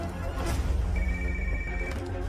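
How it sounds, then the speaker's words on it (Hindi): An office telephone rings while a call is placed to it, heard as a moderate electronic ring tone lasting about a second under busy background noise and music. "सोफिया, तुम ALX ऑफिस को फोन करो"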